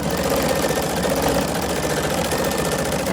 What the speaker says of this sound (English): if you're not used to like an embroidery machine, it does sound like the machine is sort of breaking all the pieces